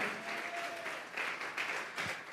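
Church congregation giving a steady round of clapping, a continuous medium-loud patter of many hands with a sharp loud burst right at the end.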